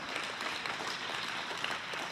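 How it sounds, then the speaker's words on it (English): Steady applause from an audience at a speaker meeting, a dense wash of clapping sustained through the whole short stretch. "it's always funny to me where at that part of my pitch people clap"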